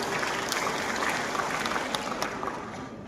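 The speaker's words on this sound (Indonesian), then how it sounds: "Tepuk tangan untuk UPI Malang." An audience at Universitas Brawijaya in Malang applauds in a steady, fairly quiet wash of clapping that continues for about three seconds and fades slightly toward the end.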